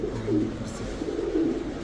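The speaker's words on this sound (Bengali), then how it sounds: "টাইগার রেসার একটা নর কবুতর" A male Tiger Racer pigeon cooing close by, two low throaty coos in a row against faint background noise.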